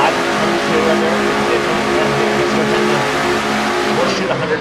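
A stock race car engine screams at speed on an oval in a racing video game, a loud sustained roar with steady harmonic pitch that fades slightly at the end, with commentary underneath.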